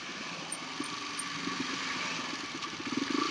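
A motorcycle engine hums steadily at moderate distance during a ride to school, a low even drone with slight rising pulses near the end.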